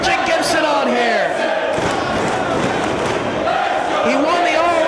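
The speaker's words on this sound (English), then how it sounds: "Crowd encouraging Gibson on here." A wrestling crowd at a Ring of Honor show cheers and shouts to urge a wrestler on, a steady, dense roar of many voices filling the hall without pause.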